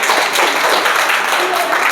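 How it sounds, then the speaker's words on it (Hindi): Students in a classroom clap together in a brief, dense burst of applause that fills the room for about two seconds. "ताली बजाइए।"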